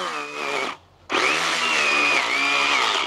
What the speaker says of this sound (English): Let's keep sawing.